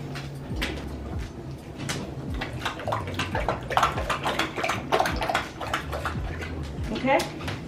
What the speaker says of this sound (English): Drink your water. Come on.